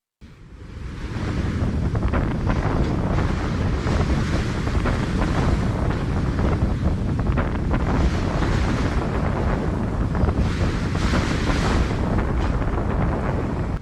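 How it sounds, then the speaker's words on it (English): Tornado winds in St. Louis roar as a loud, unbroken rush of wind buffeting the microphone, with a heavy low rumble throughout and no voices. "a deadly tornado tore through St. Louis with wind speeds reaching up to 244 kilometers per hour"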